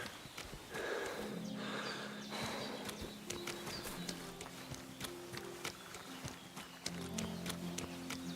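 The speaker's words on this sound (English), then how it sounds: "Oh, there's the horsey. Oh, little horsey," Horse in the video game Kingdom Come Deliverance 2, hooves clip-clopping in a steady walking rhythm at close range under game music and ambience, with no talking.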